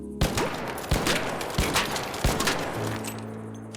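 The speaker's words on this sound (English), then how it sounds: "see how long it takes for each to get 4 rounds into this dummy" Fully upgraded Renegade rifle in the Arc Raiders video game firing four evenly spaced loud shots into a training dummy, each crack followed by a short echoing tail, then a brief mechanical tone at the end.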